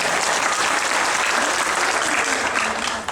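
Audience at a women's conference giving loud, sustained applause, a dense, even roar of many hands clapping together that holds steady for the whole stretch, with no talk over it.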